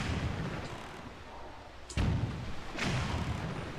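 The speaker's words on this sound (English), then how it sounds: "let's use this last cannon and get rid of that last cannon" Cannons firing in the video game Zelda Wind Waker HD, two deep booming blasts about a second apart under a dull background hum.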